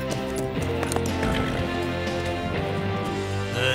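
A cartoon horse in a Lucky Luke western clip-clops along at a trot, a steady rhythmic patter of hooves layered over background music, fairly close and moderately loud throughout.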